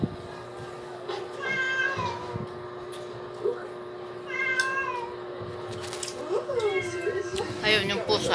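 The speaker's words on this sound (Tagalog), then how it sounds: "Ayun, yung pusa." A cat meows repeatedly indoors near a door, several drawn-out cries at a moderate level with a person talking in between and a steady hum underneath.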